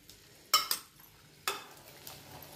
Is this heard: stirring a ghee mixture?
yes